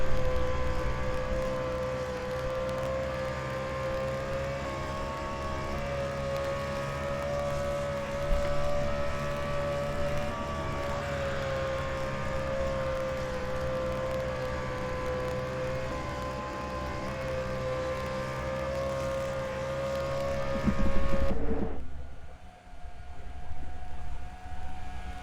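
Onboard engine of Denny Hamlin's number 11 NASCAR Cup car racing at Charlotte during the Coca-Cola 600 in 2007, a loud steady high-revving drone that drops off sharply near the end.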